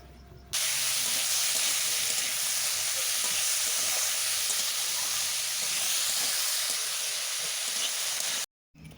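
Potatoes with fried onions and salt being stirred in a hot pan for a Bengali prawn and potato poppy-seed dish, heard as a steady loud sizzle and hiss with faint scraping that runs without a break and then cuts off abruptly near the end.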